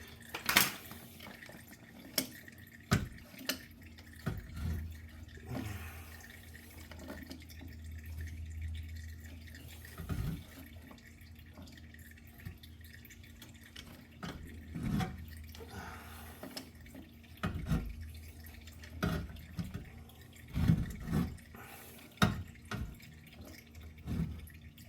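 Motor oil drips and trickles into a drain pan beneath the filter housing of a 2005 Porsche Cayenne during an oil change, with scattered close splashes and taps over a low steady hum.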